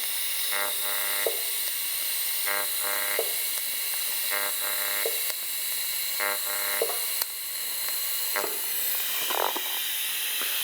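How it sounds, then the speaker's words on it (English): An arc welder welds a cast part shut during a 1JZ turbo swap on a Toyota JZX100 Mark II, making steady crackling hiss with repeated short buzzing bursts at regular intervals, close and continuous. "I'm gonna weld that shut. into the cast."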